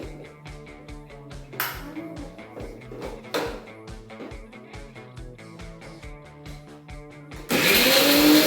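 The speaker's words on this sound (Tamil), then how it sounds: "இது வந்து பாப்பா அரைச்சுக்கிறா மிக்ஸி ஜார்ல போட்டுட்டு." A mixer grinder whirs in short bursts while grinding nuts, then runs loud and steady at the end, with rhythmic music playing underneath.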